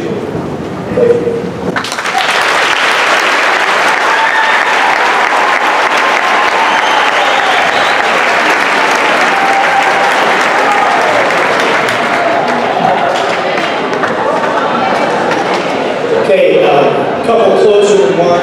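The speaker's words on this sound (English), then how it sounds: "Hold your applause, please." At an awards ceremony, a crowd breaks into loud, sustained applause that fills the hall for many seconds, with a voice speaking at the start and again near the end.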